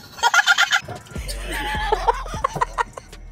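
A turkey gobbles in a rapid, warbling burst, followed by more fowl calls mixed with people talking and a low rumbling background.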